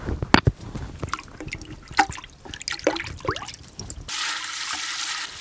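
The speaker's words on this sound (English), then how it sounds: "I'm gonna hose this off real quick." Water from a garden hose splashes and drips over freshly harvested ube purple yam, irregular patters and trickles ending in a steady, hissing spray outdoors.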